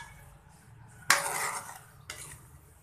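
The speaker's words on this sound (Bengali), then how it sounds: "কড়াইতে এবার আদাগুলো দিয়ে দিচ্ছি" Ginger dropped into a kadai for Kashmiri mango pickle gives a sharp metallic clatter followed by a brief rush of sizzle, then a second smaller knock of utensil against the pan, close and moderately quiet.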